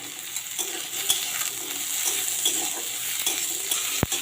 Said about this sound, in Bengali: পেঁয়াজটা আলুর সাথে ভাজা যাবে